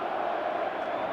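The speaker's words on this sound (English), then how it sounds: "Crowd chanting Fukudome." A baseball crowd at a Cubs home game against the Dodgers chants a player's name. The sound is a steady, dense wash of many voices that holds level for the whole short moment, with no pauses.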